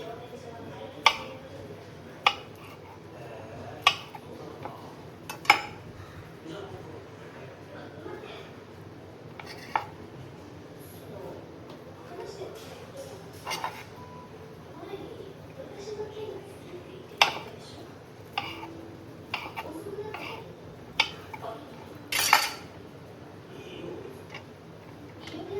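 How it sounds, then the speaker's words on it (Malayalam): Knife slicing chicken sausage on a plate, with sparse light taps and clicks of the blade striking the plate, spaced irregularly under a quiet room tone. "സോസേജ് ഒന്ന് കട്ട് ചെയ്തെടുക്കണം."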